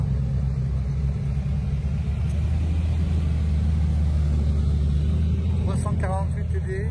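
A Chevrolet Camaro engine roars at a classic car gathering, a loud deep rumble that holds steady throughout, with people talking over it.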